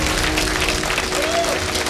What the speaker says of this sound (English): Make some noise for yourselves for coming out on a beautiful Los Angeles Tuesday night.